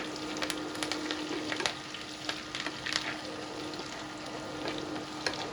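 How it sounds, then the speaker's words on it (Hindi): Cumin seeds and curry leaves sizzle in hot oil for a tadka, a steady close crackle with scattered little pops and no voices. "ये हो गया हमारा कंप्लीट तड़का"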